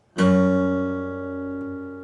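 A single plucked guitar chord opening part 2 of a song's intro rings out clearly and alone, its sustained strings decaying slowly over about two seconds.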